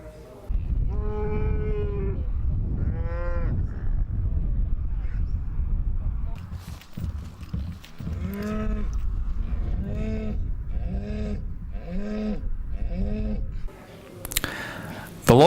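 Charolais cattle on a farm moo repeatedly, loud and close, with long drawn calls early on and a run of shorter rhythmic moos later, while someone narrates over part of it.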